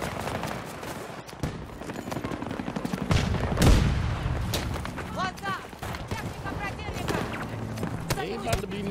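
Bursts of gunfire in the Battlefield 2042 video game, rapid shots crackling at mid distance with a louder close volley midway, mixed with game effects while players talk over it.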